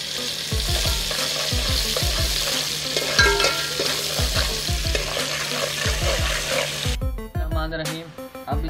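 Onions sizzling in hot oil in a pan while being cooked for tomato karahi, with a steady loud frying hiss and repeated scraping stirs close by; a short tap-water splash comes near the end.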